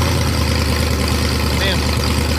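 A Ford Maverick engine fires up after vacuum leak and idle mixture fixes, settling into a loud, steady idle with a faint exhaust leak, a continuous low rumble throughout.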